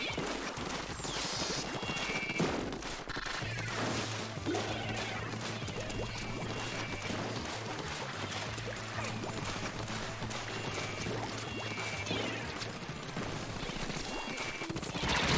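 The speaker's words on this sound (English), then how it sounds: "There's little robotic bombs that are doing their best." Small robotic bombs going off in the Splatoon 2 video game, with repeated crashing bursts and splashy impacts over a continuous bed of game music and effects.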